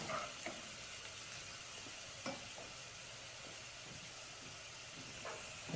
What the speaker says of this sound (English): I got this on medium heat for these sausages here. You can see them cooking up